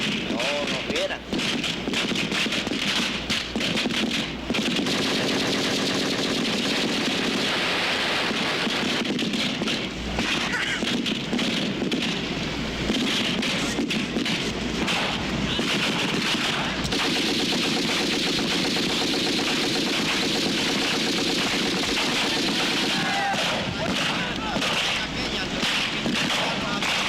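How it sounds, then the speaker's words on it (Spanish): Machine gun fire in a documentary combat scene crackles in dense, rapid bursts alongside heavy rain-like hiss, with a voice speaking over the noise throughout. "Entonces salta la ametralladora y ordena a Conchita que se la coja."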